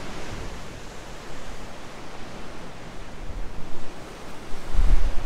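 Ocean waves surging and splashing over rocks on an island shore, a steady roaring wash with gusty wind buffeting the microphone and a heavier surge building toward the end.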